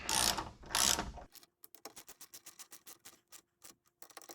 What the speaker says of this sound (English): Next we'll grab the 10mm socket, go down each one of the brackets here, and tighten the running board to the brackets.